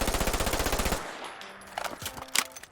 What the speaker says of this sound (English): And then we have the full mag dump.